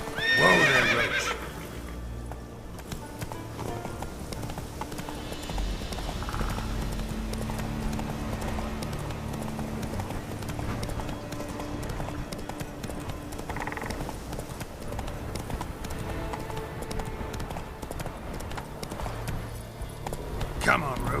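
Roach the horse gallops in The Witcher 3, steady clip-clop hoofbeats running through the whole stretch with occasional whinnies, while a voice speaks over the hooves.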